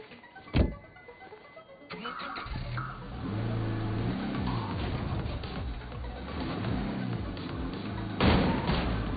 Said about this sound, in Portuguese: O carro bater aí é doideira.